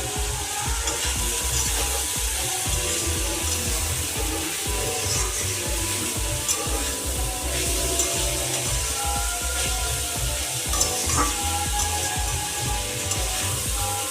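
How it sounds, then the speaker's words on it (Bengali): Chopped carrots and capsicum sizzle steadily in a hot pan for fried rice, a dense continuous frying hiss with occasional stirring scrapes, close and loud throughout. "গাজর কুচিগুলো দিয়ে দিচ্ছি, একসঙ্গে ভেজে নেব"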